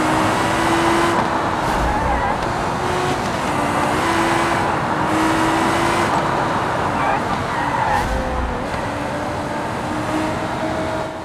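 A Civetta LeGran car in the BeamNG driving game holds a steady, sustained engine drone with a whining tone, with the throttle eased gently rather than floored, up close and continuous throughout.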